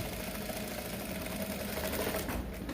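A sewing machine stitching a hem on top of hemming gum, running in a fast, steady whir throughout, close but fairly quiet, with no voices.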